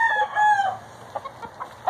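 Farm roosters crow and laying hens cluck close by, a drawn-out crow giving way to short, scattered clucks.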